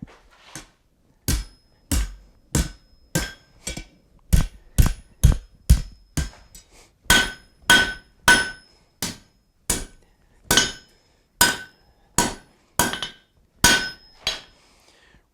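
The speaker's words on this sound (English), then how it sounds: "So what will happen now is I'm going to bend that and prepare it for the weld." Steady, evenly spaced ringing hammer blows on hot steel, about twenty strikes in a row, as a fire poker is bent at close range.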